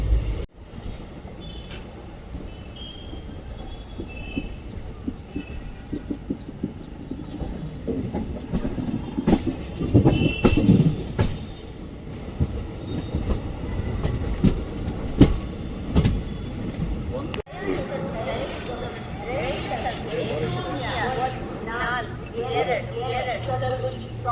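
Steady rumble and rhythmic clatter of a train rolling along the rails, heard from inside a general coach of the Bidar–SMT Bengaluru train, with scattered knocks and rattles.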